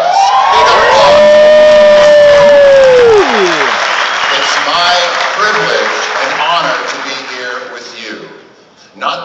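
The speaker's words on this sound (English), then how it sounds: "what about all the female veterans in the audience? Big applause!" A theater audience at a Veterans Day rock concert applauds and cheers loudly, with a long, rising and falling whoop or whistle over the clapping near the start, then sustained applause that tapers off.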